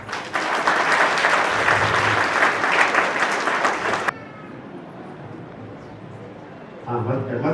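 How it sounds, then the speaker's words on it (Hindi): Applause breaks out during a Christian wedding ceremony after the ring vows: a loud, dense burst of clapping that stops suddenly, then quiet room noise and a voice at the end. "तालियां।"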